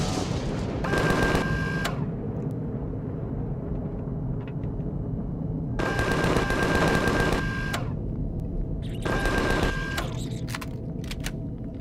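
Tank turrets in the Empyrion Galactic Survival video game fire sustained automatic bursts at night. Three loud rapid volleys are separated by gaps of low ambient rumble.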